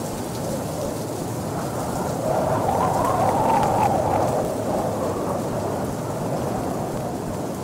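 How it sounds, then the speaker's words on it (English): Rain and thunder in the Rec Room video game, a steady patter of rainfall under a low rolling thunder rumble that swells in the middle and then eases back to the rain. "guess it's raining."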